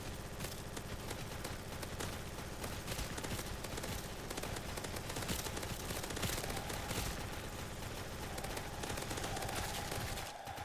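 A minigun firing continuously in the Roblox game Zombie Rush, a dense unbroken stream of rapid shots at a steady low level for about ten seconds.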